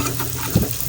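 Chopped onion frying in a pan with potato and taro (arbi), a short burst of close sizzling with a soft stirring scrape, no talking.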